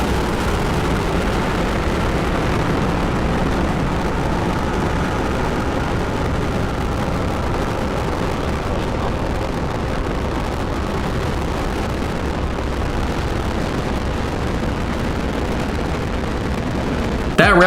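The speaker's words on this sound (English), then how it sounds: "Ignition. Liftoff." A rocket engine roars through launch liftoff, a loud, dense, continuous rumble that holds steady and unbroken for its whole length before an abrupt cut at the end.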